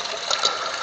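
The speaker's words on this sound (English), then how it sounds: "see, the water runs up the hose, up to the top, and through that, runs down" Water from a bilge pump rushing steadily through a gold sluice high banker, a continuous close gushing flow with no voices.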